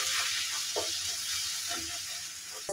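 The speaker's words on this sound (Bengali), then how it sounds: "আর মশলাগুলো ভালোভাবে ভাজা হয়ে গেছে।" Cumin and coriander powder frying in a pan for a cauliflower, cabbage and potato vegetable dish: a continuous soft sizzle, broken by a few stirring scrapes, close and fairly quiet.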